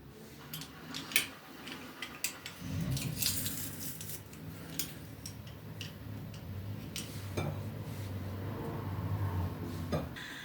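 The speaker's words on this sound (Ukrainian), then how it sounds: "І зараз будемо все старанно вимішувати." Eggplant salad with garlic is stirred in a bowl, soft squishing mixed with scattered clicks and light taps of a utensil against the bowl, fairly quiet and close.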